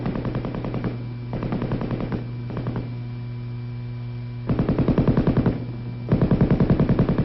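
M60 7.62 millimeter belt-fed, gas-operated machine gun firing in rapid automatic bursts, several strings of rattling shots separated by short pauses, over a constant electrical hum.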